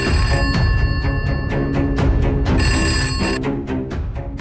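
A home landline telephone rings insistently, its bright bell-like trill repeating in rapid pulses over a dense, loud background, with no talking.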